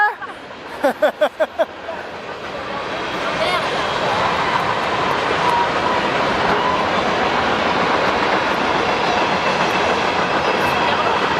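A train rumbles past nearby, its rolling, rhythmic clatter building from a few sharp knocks into a loud, sustained roar.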